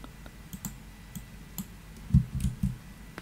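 Typing on a computer keyboard while drawing a CAD model: sparse, close, fairly quiet key clicks, single taps followed by a quick cluster of strokes near the end.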